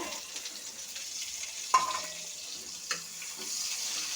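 Spice paste, added after panch phoron, fries quietly in hot oil in a pan with a soft, steady sizzle and a couple of brief clicks.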